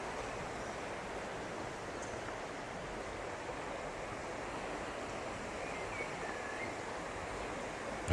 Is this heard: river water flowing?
yes